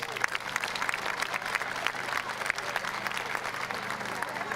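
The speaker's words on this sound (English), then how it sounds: "So let's give Coach Heinrich a round of applause." A crowd at an evening school pep fest applauds a veteran cheer and dance coach, with steady, dense clapping that holds throughout and a few voices mixed in.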